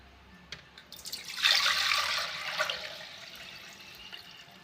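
Rice is swished and rubbed by hand in a bowl of water, a close, soft burst of sloshing and splashing that rises after a second and fades gradually, with faint clicks before it.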